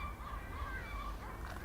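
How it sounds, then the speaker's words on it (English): Seagulls call noisily in the open air around a ruined Scottish monastery, a few harsh, honking cries rising and falling at a moderate distance over quiet wind, with nobody speaking. "The seagulls are being extremely noisy."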